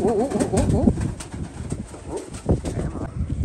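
Racing pigeons coo close by in a loft in soft, warbling bursts, with some rustling and faint background voices.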